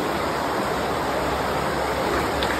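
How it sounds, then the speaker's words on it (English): A river runs inside a cave, a constant broadband rush of flowing water heard from a short distance, with no voices. "You can hear the river running"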